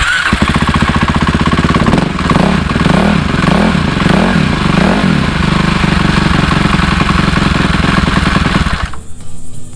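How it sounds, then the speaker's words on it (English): A Cannondale dirt bike engine idles a little fast, loud and close, with steady pulsing rumble and a few uneven throttle-like surges early before cutting off near the end. "that's idling a little fast, and that's how it's supposed to be"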